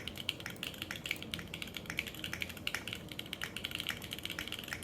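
Rapid, continuous clicky keystrokes from a Burgundy Day Off 60 mechanical keyboard during a typing test, close and crisp with no speech.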